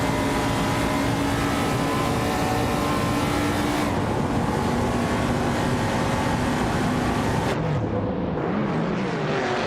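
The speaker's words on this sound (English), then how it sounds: "The car is a 1971 Plymouth Roadrunner, famous for its muscle car heritage and solid powertrain." A 1971 Plymouth Roadrunner muscle car engine in a racing video game, holding a loud, steady roar throughout with brief shifts in tone and no talk over it.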